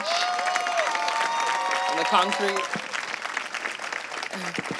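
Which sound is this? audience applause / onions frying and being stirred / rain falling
audience applause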